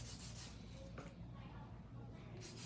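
Long acrylic nails being hand filed, soft rhythmic scraping strokes heard faintly and close up, with a few brief bursts of rubbing.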